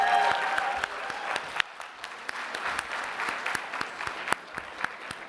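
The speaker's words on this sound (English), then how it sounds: "another round of applause for BC Manor and the captains of the HUDs" An audience at an annual general meeting breaks into applause, a dense wash of many hands clapping that fades gradually with scattered sharp claps standing out, with no talk over it.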